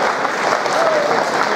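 Sustained, dense audience applause fills the space as a crowd welcomes a poet at a mushaira, steady and loud from start to finish with no break.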